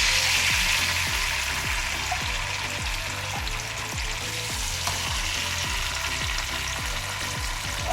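White fish fries in hot oil in a pan, giving a steady loud sizzle with regular bubbling pops and crackles, close up with no voices over it.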